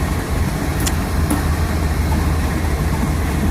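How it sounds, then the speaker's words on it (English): A mixed freight manifest train rumbles past steadily in New England, a constant low roar of rolling cars with no break, fairly loud and close. "He's a good mixed freight manifest."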